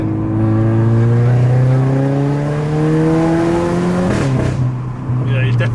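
A 250bhp Renault Clio RS with a small turbo accelerates hard, its engine note climbing loudly and steadily through the revs from inside the cabin, then dropping sharply at a gear change before pulling again.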